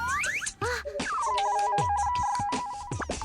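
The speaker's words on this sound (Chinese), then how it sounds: "你打电话给戏精，叫他去叼下来" A telephone ringtone plays a repeating electronic melody up close, mixed with bursts of other sound effects and no clear talking.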